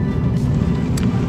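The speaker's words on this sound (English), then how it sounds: "Great exhaust notes coming out of this car as well." A 2019 Lexus IS350 AWD F Sport accelerating, its exhaust giving a loud, steady low engine roar heard up close for a brief moment, with no talking.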